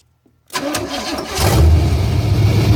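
A car engine cranks and catches after a brief silence, then settles into a loud, steady idle up close, with no one speaking.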